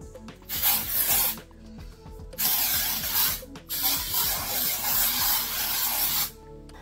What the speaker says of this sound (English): You can even go with like a texture spray, like this one from Heritage, Magic Spell.